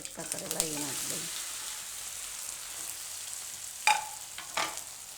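White sesame seeds and red chillies sizzle in hot oil over a lowered gas flame for ragi jowar muthiya, a soft continuous frying hiss with brief stirring clatters and a short stretch of voice near the start.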